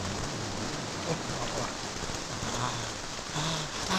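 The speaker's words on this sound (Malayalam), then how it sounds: "മഴ തുടങ്ങുന്നു" Steady rainfall pattering on surfaces, a dense even hiss of drops close by with no voices.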